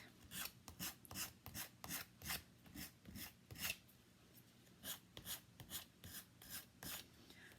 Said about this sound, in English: the more you sand these, the more rustic they get